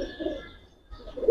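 Pigeons on a pigeon farm keeping giribaz and colored pigeons, coo softly in short low bursts, with a quiet gap between the calls and a louder coo rising at the end.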